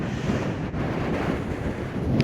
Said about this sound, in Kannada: ಸಿಕ್ಕಾಪಟ್ಟೆ ಗಾಳಿ, ಬಾಡಿನೆಲ್ಲ ತಳ್ತಾ ಇದೆ ಹಂಗೆ